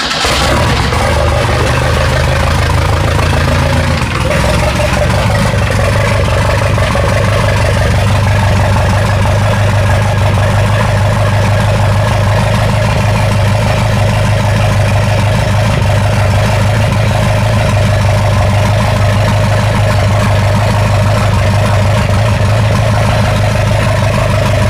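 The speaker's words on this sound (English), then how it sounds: "let's throw the plug in and crank it over with fuel going to it" A 2.3L turbo Ford sand rail engine cranks briefly, then catches and runs, settling into a loud, steady, rough idle that carries on unbroken at close range.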